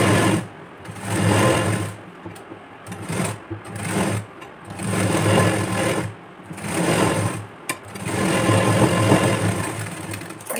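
A sewing machine stitching a blouse with gathered puff sleeves, running in repeated bursts of rapid whirring separated by short pauses, close and clear with no talking.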